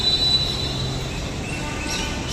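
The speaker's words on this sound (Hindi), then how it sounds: "सो गाइस फाइनली हमारी रेल आ चुकी है" Train arriving at an Indian railway station, a steady low rolling rumble with a faint high wheel squeal and hum, moderately loud and without talk.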